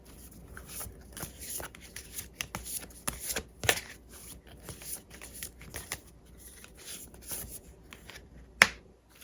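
Tarot cards shuffled by hand in a quick run of crisp riffles and slaps, close and fairly loud, with a sharp snap near the end and no talk.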